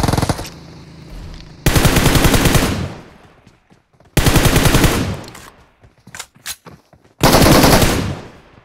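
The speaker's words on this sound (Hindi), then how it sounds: "मतलब क्या थोड़ी थोड़ी गोलियां चला रहा हूँ" Automatic gunfire in a battle royale mobile game, three loud sustained bursts of rapid shots separated by quieter gaps with scattered single shots, close and dominant with no talk.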